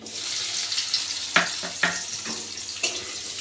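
Chopped onions dropped into hot oil already tempered with whole garam masala and bay leaves, crackling in a loud, close, continuous sizzle with a few sharp pops and spatters, no voices.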